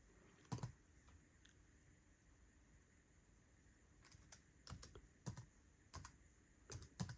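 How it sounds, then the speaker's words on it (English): Faint keys clacking on a computer keyboard in a quiet room, scattered clusters of typing separated by short pauses. "now I'm going to type in"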